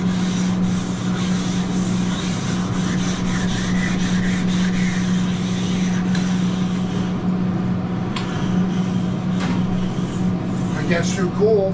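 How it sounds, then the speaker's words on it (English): A metal scraper rubs and grinds across a hot flat top griddle during cleaning with lemon, a steady raspy scraping texture running continuously beneath a constant low hum. "Maybe a little bit more scrape so you're not rubbing it all in."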